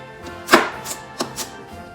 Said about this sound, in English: Press the knife down, and then we're going to cut it fairly small.